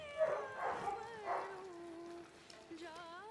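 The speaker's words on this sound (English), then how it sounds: "I don't know if you can hear the dogs barking" Faint dogs bark and howl in the background of a home kitchen, a few drawn-out yelps and whines fading in and out.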